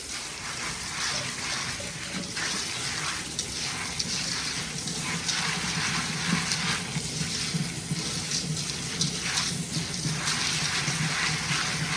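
Dried beans are rinsed for canning under a steady stream of tap water in a sink, with a continuous splashing gush close by.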